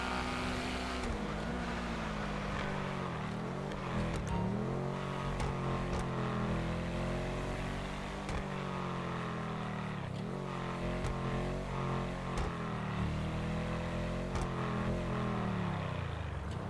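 A sports car engine in Grand Theft Auto V drones and revs continuously, pitch rising and falling through gear shifts, loud and close throughout.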